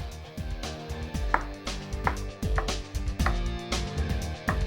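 A knife chops potato on a cutting board while sabudana khichadi is being prepared, giving a steady run of close, crisp chops in an even rhythm with no talking.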